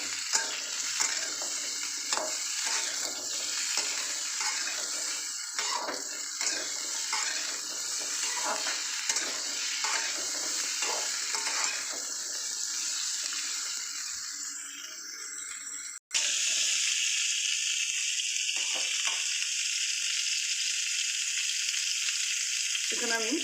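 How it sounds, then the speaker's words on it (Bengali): Vegetables for Bengali shukto are stirred in a sizzling pan, a steady hiss of frying with regular scraping strokes of the spoon, then a sudden change as water is added and the sizzle turns softer and calmer. "একটু নাড়াচাড়া করে জল দিয়ে দেবো।"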